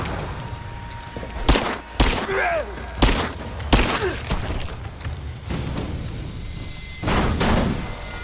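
Bursts of gunfire in the Rise of the Tomb Raider video game, several loud booming shots spaced a second or so apart over steady battle ambience, with brief groaning voices between them.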